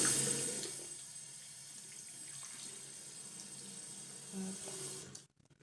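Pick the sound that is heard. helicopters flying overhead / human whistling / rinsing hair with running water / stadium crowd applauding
rinsing hair with running water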